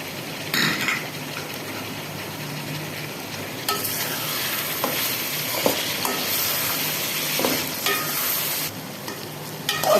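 Onion fries in a pan for dhaba-style masala okra as tomatoes and chopped green chillies are stirred in, giving a steady sizzle with a utensil scraping and knocking against the pot.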